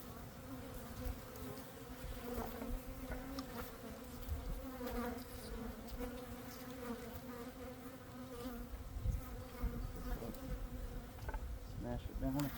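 Honey bees buzz steadily around an opened hive during an early-spring apiary check, a dense, continuous drone close by with no talking.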